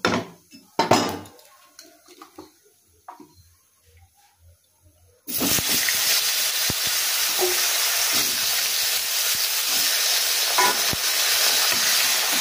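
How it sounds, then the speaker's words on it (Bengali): A few soft kitchen clinks in near silence, then a sudden loud hiss as potatoes drop into hot oil with sizzling cumin, settling into a steady, close sizzle. "এবার আমি আলুগুলো দিয়ে দেবো।"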